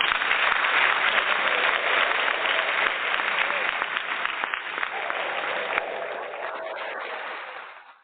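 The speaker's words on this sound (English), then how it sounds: "let me go ahead and give a round of applause for Darryl getting his number retired." Broadcast applause at a sports talk show celebrating a retired jersey number: a dense, steady wash of clapping that holds for several seconds before tapering and fading away at the end.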